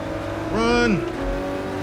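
A Nissan GT-R race car engine in a racing video game, a rising then falling engine note swelling loudly for about half a second before fading back under steady background engine drone.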